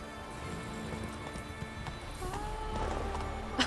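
Horse hooves clip-clopping at a slow walk in The Witcher 3, a steady soft patter of footfalls mixed into continuous game ambience and background music, moderately close.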